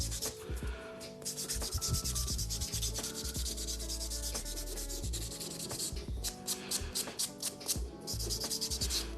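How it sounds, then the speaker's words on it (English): A file smooths dip powder on fingernails during an ombré manicure, making steady, close rasping strokes in a continuous rhythm with no talking. "I'm smoothing my file marks, but number two, I'm smoothing the dip"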